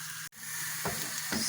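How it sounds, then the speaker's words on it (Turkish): Coarsely chopped onions sauté in a pan, a close, continuous hiss of frying with a couple of soft stirring scrapes and one brief dropout near the start. "Pembeleştireceğiz iyice soğanlarımızı"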